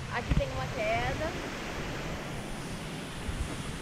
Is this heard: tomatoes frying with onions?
no